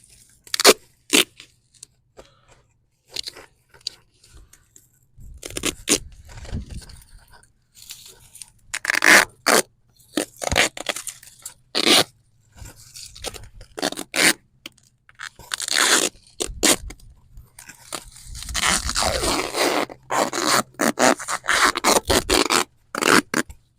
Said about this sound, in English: we're just gonna tape it up with duct tape to keep it in place